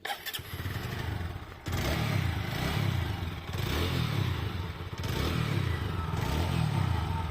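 A TVS Apache RTR 4V ABS motorcycle in fresh condition idles and revs in repeated swells, the engine note rising and falling steadily at close range with no talk over it.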